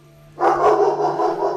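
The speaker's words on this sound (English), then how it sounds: "Okay, that's my dog." A single dog bark bursts in close and loud after a brief quiet, followed by a sustained yelping tail.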